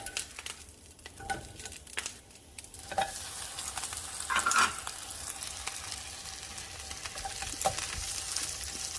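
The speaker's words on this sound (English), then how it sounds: "I'm just going to get these chilies toasted on the outside" Chilies for salsa de molcajete toast and sauté in a pan, a crackling sizzle that swells and stays steady under scattered pops and stirring clicks, with no talking.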